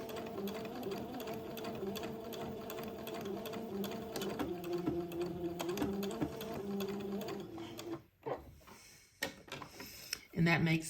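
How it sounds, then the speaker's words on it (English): A sewing machine stitching a French seam in fine batiste, its steady close whirring hum running continuously before stopping, followed by a few clicks and handling sounds, with a voice talking at times. "So just sew real close to the edge of the first seam."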